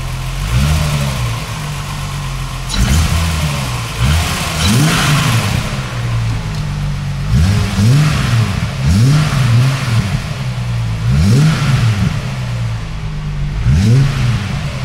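VW Golf 2 with a VR6 engine and a 65 mm stainless exhaust revving repeatedly, about seven loud close blips climbing and falling back to a rumbling idle between them, with no talking.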